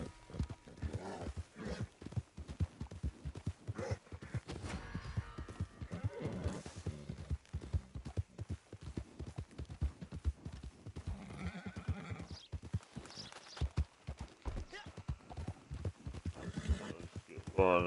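Steady clip-clop of hooves at a gallop in Red Dead Redemption 2 Online, a horse neighing now and then, with a voice talking over the hoofbeats.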